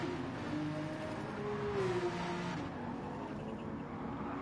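Race cars, an Aston Martin among them, run at the Bathurst 12 Hour endurance race in 2023: a steady, moderately distant engine drone with a rising whine as a car passes after overshooting a braking zone.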